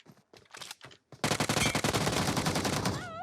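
Rapid gunfire in PUBG Mobile during a double headshot: a few short bursts, then a loud continuous automatic volley lasting about two seconds that ends abruptly, with a faint electronic warble trailing after.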